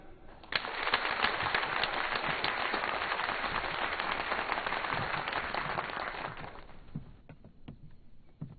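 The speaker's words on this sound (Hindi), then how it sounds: "तालियां।" An audience at an award ceremony bursts into dense, sustained applause for several seconds as a quiz winner is presented with an award, then the clapping thins out into a few scattered claps.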